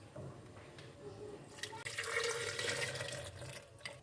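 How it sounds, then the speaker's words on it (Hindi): Two glasses of milk pour into a blender for a dry fruit milkshake, a faint trickle that swells into a fuller gurgling stream halfway through, with a brief knock before it. "दूध ऐड कर देते हैं 2 ग्लास।"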